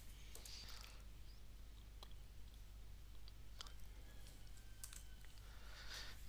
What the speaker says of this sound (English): I have typed the password